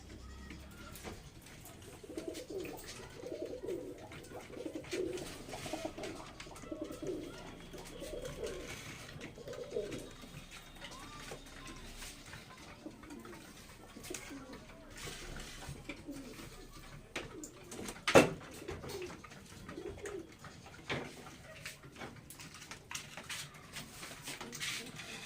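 Pigeons coo repeatedly in a loft, soft throaty calls overlapping at moderate distance, with occasional knocks and a sharp clatter midway.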